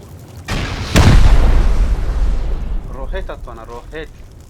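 Rocket explosions during a raid in the game Rust hit as two heavy booms a moment apart, then roll off into a long rumbling decay while a voice talks over the tail.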